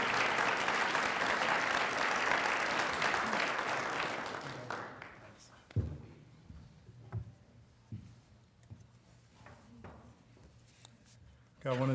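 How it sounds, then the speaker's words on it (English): Audience applause at a university research lecture: loud, dense clapping for about five seconds, then tapering into scattered claps and light room noise. "How about a round of applause for Brian Hendrickson?"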